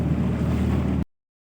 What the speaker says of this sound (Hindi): पानी की आवाज़, पानी का शोर जो था वो बहुत ही खूबसूरत लग रहा था